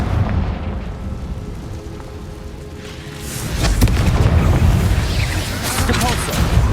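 A Confringo spell explodes in the Hogwarts Legacy video game, a loud rumbling blast over a busy game soundtrack that swells into a heavier roaring burst partway through.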